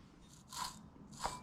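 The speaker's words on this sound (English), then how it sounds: "This one spins, sounds a little crunchy." A worn engine pulley from a Ford F150 spun by hand, giving two short gritty crunching bursts close up, separated by a brief pause.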